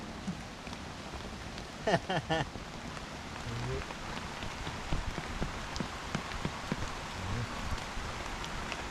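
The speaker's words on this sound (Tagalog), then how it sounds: "Grabe yung ulan." Heavy rain pounds steadily on surfaces outdoors at a small backyard farm, a dense continuous hiss with scattered drips and a brief burst of nearby knocking and voices early on.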